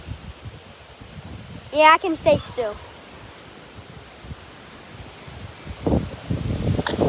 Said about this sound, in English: Boy, it's so windy.